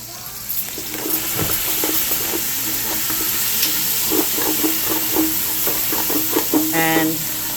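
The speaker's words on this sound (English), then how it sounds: "Now I'm going to take my parsley and put that in. And I'm going to saute that up for a bit." Parsley sautéing in a pan over very low heat while beef short ribs are being prepared, a steady soft sizzle with occasional stirring scrapes and clicks, close and moderately loud, with no voices.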